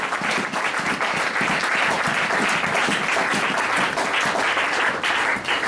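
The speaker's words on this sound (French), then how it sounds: "On acclame pour les seigneurs." A church congregation at an evening service applauds together, a dense, continuous wash of clapping at steady loudness throughout, with no voices standing out.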